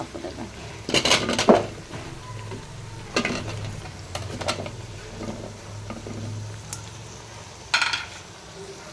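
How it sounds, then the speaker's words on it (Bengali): Bottle gourd pieces going into a pot of shrimp and being stirred, with metal clanks of a spoon against the pot in bursts over a soft sizzle, no talk. "লাউগুলো এখন দিয়ে দিচ্ছি, এটাকে এখন ভালো করে নেড়ে দিব"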